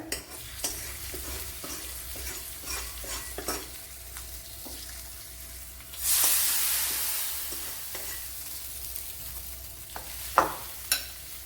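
Hot tempering splashes into an eggplant curry with a sudden loud sizzle that fades over a few seconds, framed by scattered stirring clinks and scrapes in a home kitchen.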